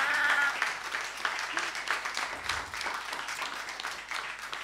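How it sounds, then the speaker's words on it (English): Audience clapping at an evening conference session, a sustained wash of applause from a seated crowd filling the room at steady strength, with faint voices mixed in. "clap again."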